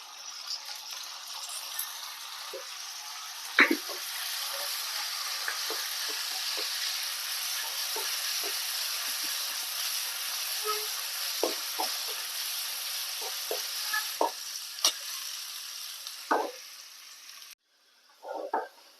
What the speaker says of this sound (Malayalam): നമുക്ക് ഉള്ളി വറുത്തിടാം.